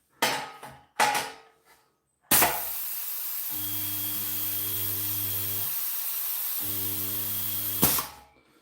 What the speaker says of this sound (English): Homemade spot welder, pulse spot welder, pneumatic